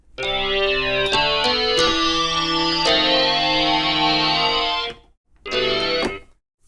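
A bright, wide synthesizer patch from Reason 13 plays sustained chords with rhythmic stabs and a chorus-like shimmer, stops briefly, then returns for a short final burst.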